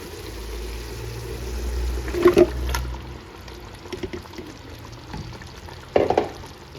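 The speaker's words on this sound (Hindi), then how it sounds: "तो अब मैं इसमें डालने लगी हूँ चिकन" Chicken added to cooked-down tomatoes in a pot for chicken achar, giving a low sizzling, stirring hiss with a few wet clunks and scrapes as the pieces go in.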